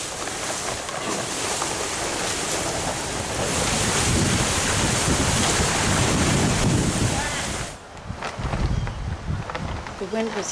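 Strong wind roars outdoors while a tarp is taken down off a roof, a loud continuous buffeting that batters the microphone for most of the time, dropping briefly before gusting back in.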